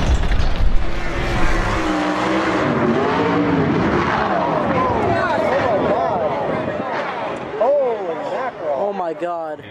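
A race car crashes during qualifying on a 360 oval, with engine roar and rough scraping, skidding impacts running loud and steady for nearly ten seconds beneath heavy talking.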